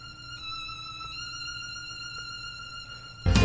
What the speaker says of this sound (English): So I'm going to throw in some violin,